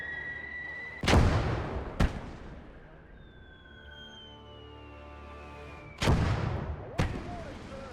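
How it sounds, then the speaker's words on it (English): Four booming 81 mm mortar shots in the war game Gates of Hell, paired and spaced about a second apart, each loud and followed by a long rolling echo, with a faint whistle in between. "81 millimeter mortar. We're just peppering their location here."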